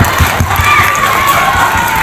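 Children and an audience at an elementary school end-of-term celebration in Surabaya clap and cheer together, a steady dense wash of crowd noise and shouting that holds for a couple of seconds, loud and close.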